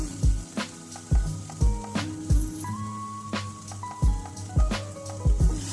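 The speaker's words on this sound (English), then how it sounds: "saute on high heat for at least 2-3 minutes without stirring them" Vegetables for street-style Hakka veg chowmein sautéing on high heat in a pan, a loud continuous sizzle broken by repeated sharp clanks and scrapes of a spatula against the metal, with no talking.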